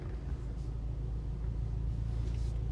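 A car pulls up at a fuel station, its engine a steady low rumble close by, continuous for a few seconds with no talking.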